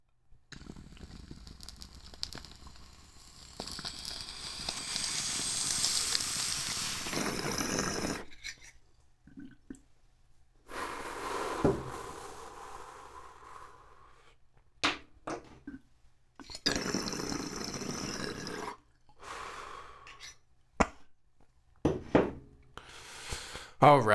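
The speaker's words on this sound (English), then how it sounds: "Let's take this bong hit" Bubbling water gurgling through a bong during a long draw, a low broken rumble rising and falling over many seconds with short breaks between pulls, close and fairly quiet.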